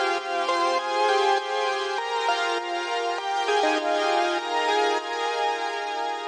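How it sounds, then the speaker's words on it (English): SynthMaster One's Key Big Synth preset plays a classic synthwave key bell sound, bright bell-like chords changing every half second or so in a steady melodic pattern, clean and upfront with no voice. "I wanted to add that kind of classic synthwave key bell sound"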